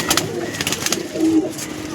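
A female Andhra pigeon gives a brief low coo amid light fluttering and rustling sounds close by.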